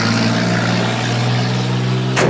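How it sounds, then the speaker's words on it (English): A Ford Mustang engine runs rough at a loud, close, steady idle, a continuous uneven low rumble with a slight surge at the very end. "that Mustang don't sound too good"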